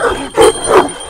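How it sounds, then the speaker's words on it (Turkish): A large dog gives two quick barks close by, short and sharp, separated by a brief pause. "Şurada var büyük güzel bir köpek."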